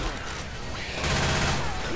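Rapid burst of gunfire from Left 4 Dead 2 survivors shooting the Witch, a dense crackling volley that grows louder halfway through, mixed with game noise.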